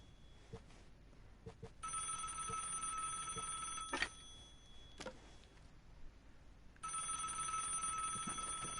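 A telephone rings in a video game, two long electronic ringing bursts separated by a pause, with scattered sharp clicks and soft knocks around them.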